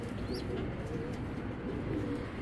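Racer pigeons coo faintly in a soft, low warble under a steady broadband hum of background noise, without talk.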